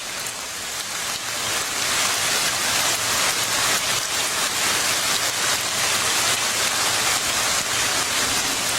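Steady, heavy rain pours down in a dense hiss, continuous and close, with no talking.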